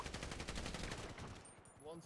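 Rapid bursts of gunfire in a Grand Theft Auto roleplay game crackle in quick succession, fairly loud and continuous, with a brief high electronic tone near the end.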